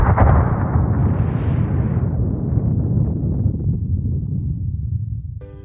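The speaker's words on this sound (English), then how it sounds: "And the sound from a volcanic explosion." Volcanic explosion: a powerful blast with a deep, booming roar that surges and then slowly dies away over about five seconds, heard alone without voices.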